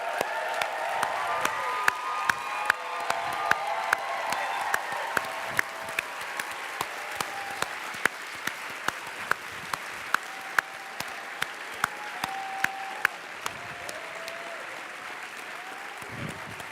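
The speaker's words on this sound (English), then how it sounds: "Please stand up and give them the warmest applause you have." Audience at a World Cup closing ceremony applauds steadily, a dense wash of clapping from a large crowd sustained for many seconds with occasional sharper claps and faint voices mixed in.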